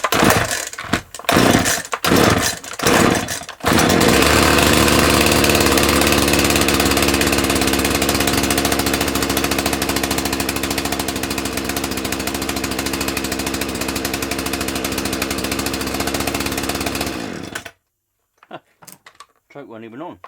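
A 1984 Dolmar 100 chainsaw engine revs in a few sharp bursts, then settles into a loud, steady buzzing run for over ten seconds before cutting out abruptly to near silence.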